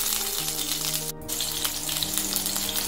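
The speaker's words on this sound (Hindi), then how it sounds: "अब मैं इसमें डालूंगी ग्रीन चिलीज" Green chilies sizzling in hot oil in a pan on the flame, a steady dense crackling fry that continues throughout, close and fairly loud with no talk.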